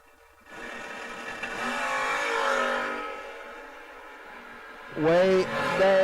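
Drag race cars, one a Camaro, launch down the strip: a sustained engine roar rises and fades, then a second sharp, loud burst of revving near the end, with a voice talking over it.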